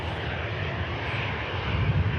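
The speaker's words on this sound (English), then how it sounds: "These are clamshell reversers on this aircraft. Just closing up there" A 16-year-old airliner at Manchester Airport with its clamshell thrust reversers closing, heard as a steady broad jet engine roar with a low rumbling swell toward the end, no voices.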